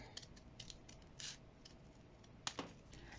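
Scissors snip through folded paper for a Christmas paper snowflake craft, a few quiet, crisp cuts spread out with short pauses between them, close and alone.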